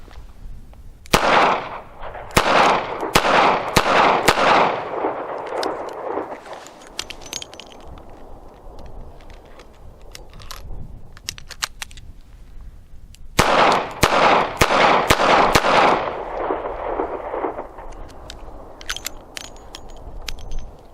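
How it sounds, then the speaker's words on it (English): A Smith & Wesson M&P Bodyguard .38 Special double-action-only revolver fires ten rounds at seven yards. The sharp, loud reports come in two quick bursts of five, separated by a quieter pause. "I'm going to fire 10 rounds at 7 yards, and we'll see what happens. Again, this is double action only."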